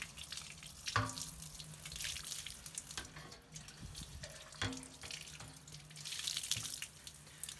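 Pressurized water from a spray gun rinses dog food and water bowls, a close, uneven hiss of spraying and splashing with sharp knocks and clatters of the bowls, and no talking.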